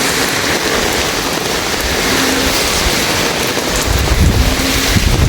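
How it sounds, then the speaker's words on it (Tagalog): Steady rain hisses alongside sudden gusty wind from Typhoon Kristine in Bicol buffeting the microphone, with the rush swelling louder toward the end. "Bigla pong mahangin. Bigla pong humangin."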